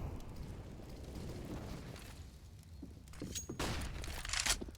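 Grenade blast in Counter-Strike on the Inferno map during a competitive esports match, a rumbling boom swelling into a loud burst near the end amid steady game noise and footsteps.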